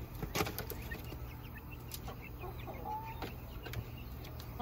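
A backyard flock of chickens clucks softly and sporadically as baby chicks are introduced to it, faint and somewhat distant against low outdoor background noise.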